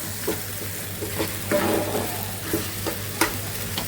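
Leafy greens frying in a pan with a soft, steady sizzle while a utensil scrapes and stirs in irregular strokes, several sharper clinks standing out close by.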